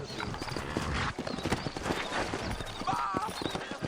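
Horses clip-clopping in the Red Dead Redemption video game, a busy patter of hooves with a brief whinny near the end, set under characters talking.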